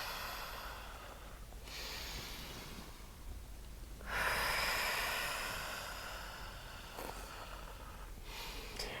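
Deep breathing during a morning hatha yoga session, with slow, hissing inhales and exhales close to the microphone. One long breath swells louder in the middle, over faint background noise.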